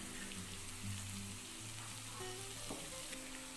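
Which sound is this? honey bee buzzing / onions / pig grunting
onions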